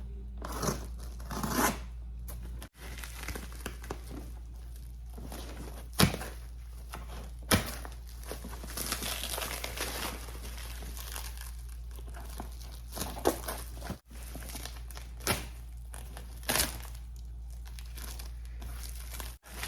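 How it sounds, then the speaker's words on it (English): A package holding Red Wing MocToe 8828 boots being opened, with close crinkling and tearing of wrapping, occasional thumps and handling noises over a low steady hum, and no talk. "So we're going to unbox this item."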